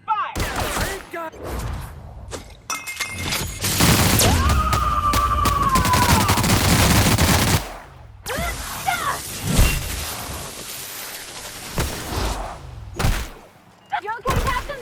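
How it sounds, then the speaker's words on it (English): Gunfire in the video game The Outer Worlds: dense bursts of shots and thuds build into a loud, sustained volley, then give way to scattered bangs, with voices speaking throughout. "Returning fire!"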